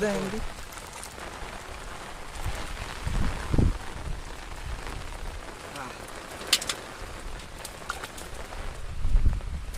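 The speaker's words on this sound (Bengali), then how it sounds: "অনেক পরিমাণ বৃষ্টি হইতেছে" Heavy rain falls steadily around a rural village fishing spot in the rainy season, a constant wash of drops with occasional low thuds and knocks nearby.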